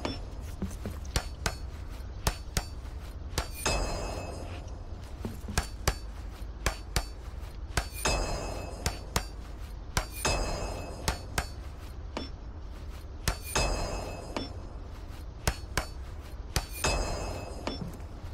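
In Lord of the Rings: Return to Moria, a hammer strikes repeatedly while repairing a restaurant, sharp metallic clinks at irregular intervals over a steady low background hum.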